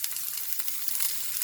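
Garlic frying in a pan for shrimp and chicken fried rice, giving a steady, fairly faint hiss of sizzling oil with light crackles throughout, no talking.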